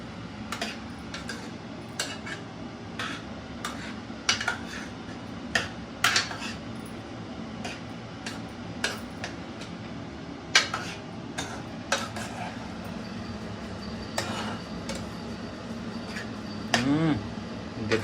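A spoon stirs ridge gourd masala curry frying in a pan, with repeated sharp metallic scrapes and clinks against the pan over a steady low kitchen hum, while people talk quietly in the background.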